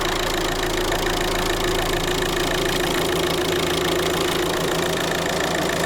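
Volkswagen TDI diesel engine idling while warming up, a steady dense clatter with even knocking, loud and close, alone without talk.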